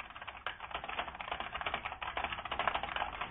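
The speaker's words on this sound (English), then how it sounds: "That's an IBM Model M, or clone of an IBM Model M keyboard." Fast, continuous clacking of an IBM Model M or Model M clone keyboard being typed on, loud and close, with dense rapid keystrokes throughout and no talking.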